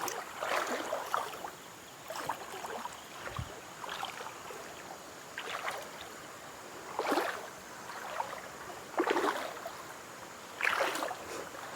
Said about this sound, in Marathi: बरोबर आम्ही आता चाललो आहे पाण्यातून